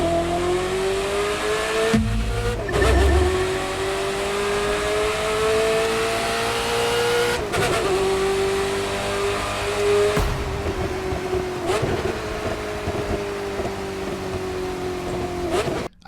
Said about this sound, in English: Each car seems to have a unique sound and their own little quirks. For an example, let's take a listen to the Ferrari F40.